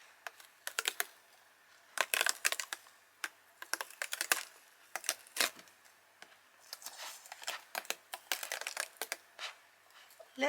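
A Cricut machine cutting card, heard as bursts of dry, crisp clicking and scraping that come and go in quick clusters, fairly close and moderately quiet, with no voice over it.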